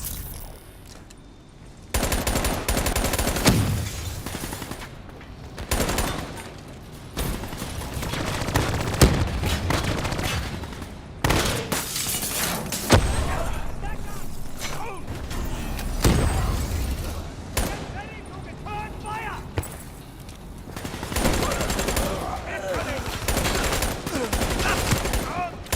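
Gunfire in Call of Duty: Black Ops 3, with repeated loud bursts of automatic fire and heavy shots. Slams and booms are mixed in, and the bursts recur throughout with short gaps, partly under game voices.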